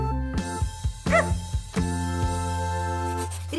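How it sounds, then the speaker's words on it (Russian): A cartoon dog in a children's animated show gives a couple of short, bright barks over a steady, bouncy musical backing. "Кажется, собачка Гав-Гав хочет сказать,"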